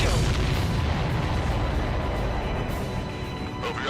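A big explosion in a flight combat video game with a Gripen jet booms as a loud, continuous, roaring rumble that stays dense for several seconds before easing slightly.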